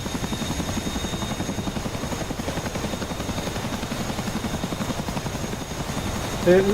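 A Chinook twin-rotor helicopter flies in the DCS flight simulator game, giving a continuous, even rotor chop with a faint high engine whine underneath.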